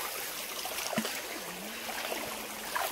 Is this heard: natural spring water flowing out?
yes